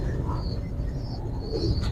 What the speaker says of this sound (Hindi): ये जो भी कबूतर आप हमें दिखा रहे हैं